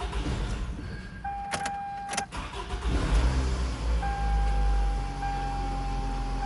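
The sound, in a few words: Toyota car engine starting and idling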